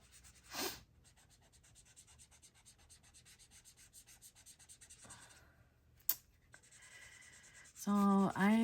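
Colored pencil strokes rubbing steadily across paper during a country-themed coloring session, a soft continuous scratchy texture in the foreground with a brief louder sound near the start and a voice at the end.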